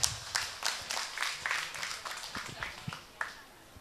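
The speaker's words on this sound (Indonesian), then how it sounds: "Tepuk tangan." Students and guests at a school ceremony, an end-of-year thanksgiving event at an Islamic boarding school in Pamekasan, clap in a short round of applause that thins into scattered claps with some voices underneath.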